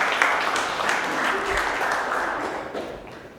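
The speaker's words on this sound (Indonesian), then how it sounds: "tepuk tangan untuk Destia" Classroom applause for Destia after her presentation during a teaching practice lesson, a steady wash of clapping from a group that lasts a few seconds and slowly thins out.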